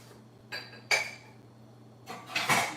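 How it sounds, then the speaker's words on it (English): A spoon stirs cucumber and turmeric water in a glass, giving a few quiet, bright clinks and scrapes against the glass in two brief clusters over a faint steady hum. "give it a quick stir around"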